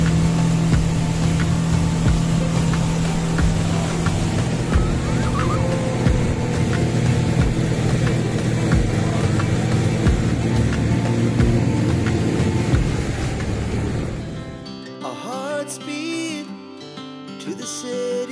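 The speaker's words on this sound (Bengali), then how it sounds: "সবাই একসাথে চেপে পড়লাম স্পিড বোটে।" A speedboat engine roars steadily on the Alleppey backwaters in Kerala, loud and close with a continuous drone and rushing water, then drops away sharply near the end to a quieter tail.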